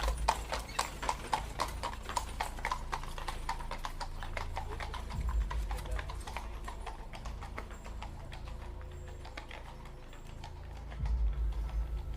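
Horse hoofbeats clip-clop in a steady, quick rhythm, fairly close and distinct, with a soft low rumble beneath and no talking.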